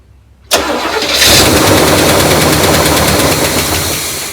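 Neglected 1972 big block engine cranks briefly and then catches with a sudden loud roar, settling into a rough, steady, rumbling run close by.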